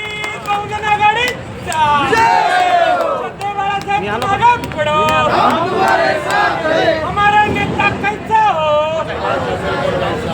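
A crowd at an election campaign rally for a Vanchit Bahujan Aghadi assembly candidate: loud, continuous shouting and chanting of many voices, with a dense roar of cheering throughout and possible clapping underneath.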